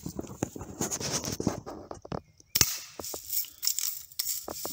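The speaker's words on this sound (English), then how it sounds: "Shooting them right in the eyeball part of the goggles." A Daisy BB gun fires at safety goggles in a series of sharp, snappy pops and impact clicks, spaced irregularly and heard close, with one louder crack partway through.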